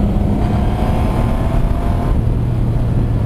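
A Triumph Rocket 3 motorcycle accelerating hard on a demo ride, a loud, steady low engine roar with a rising rumble that holds for the whole few seconds.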